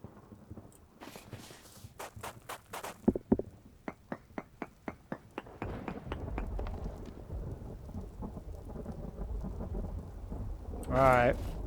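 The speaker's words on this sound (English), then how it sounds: "Well, it's storming." A Vintage Story game thunderstorm brings heavy, constant rain and deep thunder rumbling, with a quick series of footsteps early on before the steady downpour takes over.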